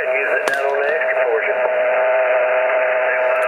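A ham radio receiver on its main antenna with noise canceling switched off puts out a dense, steady band of static and interference whine, with faint garbled voice-like warbling buried in the hiss throughout.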